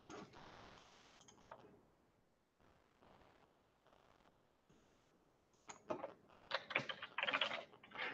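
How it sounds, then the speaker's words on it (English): Fingers tap a computer keyboard in bursts of quick clicks, quiet and near, with a brief pause mid-way before a denser flurry of keystrokes at the end. "let me type in his name"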